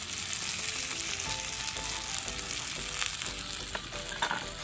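Ground turmeric, chilli, and cumin-pepper spices fry in hot oil in a pan for a Bengali Chela fish curry. A steady, loud, close sizzle runs unbroken throughout, with faint scraping of the spatula.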